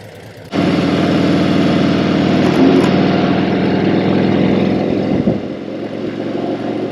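A Harley-Davidson touring motorcycle engine runs loud and steady after a sudden start, its deep throbbing idle-like rumble continuous for several seconds with a slight dip near the end, no voices present.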